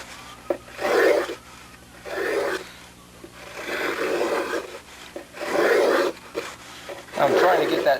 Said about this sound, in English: I'll just do the final cuts with the plane.